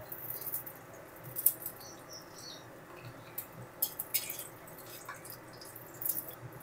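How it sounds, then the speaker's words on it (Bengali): Oil drips off fried potol bora as they are lifted from the pan, giving faint, scattered close patters and small drips over a quiet background. "এবারে তেল ঝারিয়ে বড়াগুলো তুলে নেব।"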